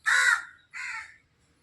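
Crows call twice close by, a long harsh caw followed by a shorter one, clear against a quiet rural background.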